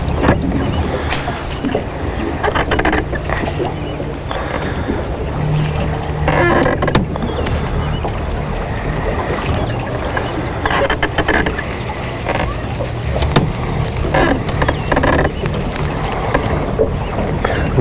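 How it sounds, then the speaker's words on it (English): Boat moving through water with splashing and lapping, slowed by a trolling motor, buffeted by wind noise on the microphone; a low motor drone sits underneath. "I'm slowing the boat down really significantly right now with the trolling motor"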